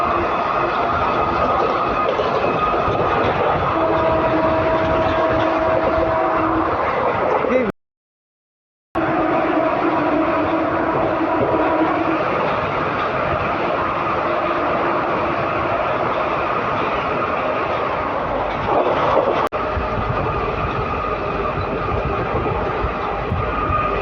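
Gujarat Superfast Express train running on rails past Virar, a steady loud rumble of wheels and carriages throughout, with a brief cutout partway and faint voices mixed in.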